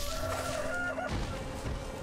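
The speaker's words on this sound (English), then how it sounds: "Why is this game of super chickens?" Chickens clucking in the game Sekiro: Shadows Die Twice, a few fowl calls over a steady game backdrop with a sharp crash near the end.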